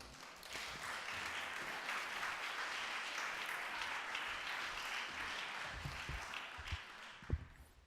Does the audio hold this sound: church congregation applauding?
yes